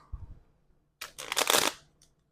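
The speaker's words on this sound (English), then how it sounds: "I shuffle a deck of cards" A quick riffle shuffle of playing cards, a dense burst of flapping cards lasting under a second, close up, after a soft tap.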